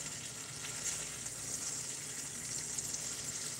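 Freshly flipped crappie and bluegill fillets fry in a hot pan, giving a close, even, continuous sizzle with no voices.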